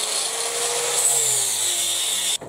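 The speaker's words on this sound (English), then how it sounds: "Now I wanna sand this, but slightly at an angle, so it comes out of the mould" A power sander grinds steadily against a cast Land Rover badge, a loud continuous high whine running for over two seconds before cutting off abruptly near the end.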